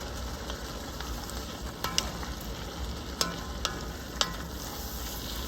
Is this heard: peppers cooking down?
yes